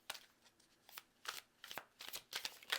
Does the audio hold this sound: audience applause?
no